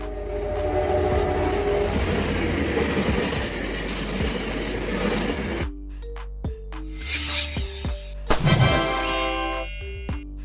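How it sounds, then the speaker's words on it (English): Double-decker passenger train passing: a loud, dense rumble and rattle of cars that cuts off, followed by sharp tonal horn blasts and squealing metallic tones, no voices. "double-decker trains feature two passenger levels to maximize capacity"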